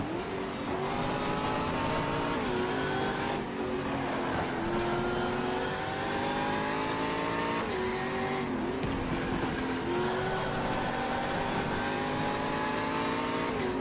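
A race car engine in the GTR 2 racing game holds near full throttle, a loud, continuous high-pitched roar that rises and dips through repeated gear shifts, with no talking.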